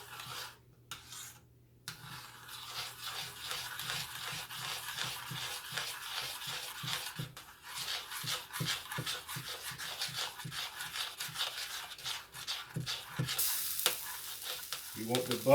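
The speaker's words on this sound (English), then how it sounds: "we're gonna stir that until it come up to a boil again" Lemon-juice pie filling for lemon meringue pie is stirred in a pot as it heats back toward a boil, a close, rhythmic scraping and swishing of spoon against the pot bottom with a soft simmering hiss behind it.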